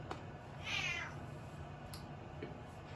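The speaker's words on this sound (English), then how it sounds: "Here's my cat as well." A cat gives a single short meow, close and moderately loud, followed by quiet indoor background with faint small knocks.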